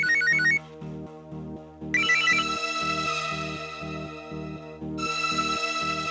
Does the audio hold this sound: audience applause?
no